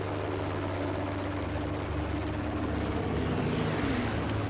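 A bomber plane's engine drones in Battlefield 5, a loud, steady rumble with a rising whine toward the end, over constant battle noise.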